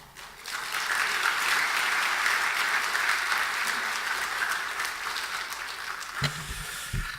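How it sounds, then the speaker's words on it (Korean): A church congregation at a Wednesday evening service claps loudly and continuously to welcome the pastor to the pulpit, a dense, even wash of applause that tapers slightly before a brief thump near the end. "우리 나대선 목사님 나오실 때에 우리 박수로 크게 환영하시겠습니다"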